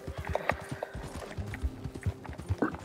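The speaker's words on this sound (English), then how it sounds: "Come on, horse, move." Horse hooves clip-clop in a steady walking rhythm in a Western video game, fairly close and continuous, with occasional low thuds mixed in and no talk over them.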